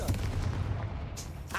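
A Confringo spell cast in the Hogwarts Legacy video game, a short blast-like burst with a rumbling low body and a brief crackling tail, heard over a steady game background.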